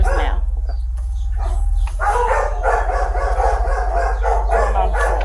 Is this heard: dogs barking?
yes